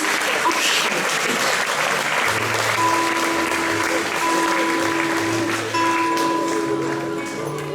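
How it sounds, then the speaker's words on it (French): A concert audience applauds loudly and continuously, a thick wash of clapping filling the room, with some faint tones and voices underneath. "Vous pouvez vous applaudir très très fort"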